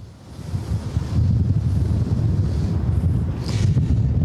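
Strong wind buffeting a microphone outdoors as a heavy rainstorm begins, a loud, steady low rumble with gusty swells throughout and no voices.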